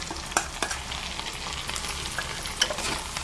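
Dal frying in a pan for pulihora crackles with a steady hiss, punctuated by a few sharp stirring clicks against the pan, close by, with no one speaking.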